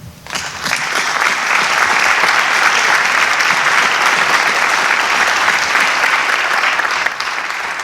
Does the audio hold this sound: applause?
yes